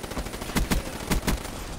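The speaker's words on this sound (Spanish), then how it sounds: "Impresionante como tira el subfusil." A submachine gun fires in Black Ops 3, with several short bursts of sharp shots that sound close and punchy against a faint game background.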